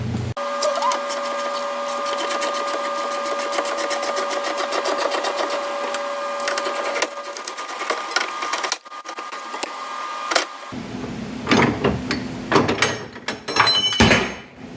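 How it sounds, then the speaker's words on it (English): An electric tool, likely driving a strut spring compressor squeezing a coilover spring for an Audi B7 RS4's Bilstein B16 PSS9 coilovers, whirs steadily for about eight seconds, then gives way to metallic clanks and scraping. "So here I use my strut compressor again to get the spring through"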